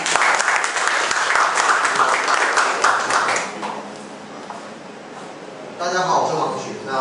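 Audience applause at a Kaohsiung community meetup of two-minute self-introductions, a dense burst of many hands clapping for several seconds that fades out, followed by quieter room murmur and a brief voice.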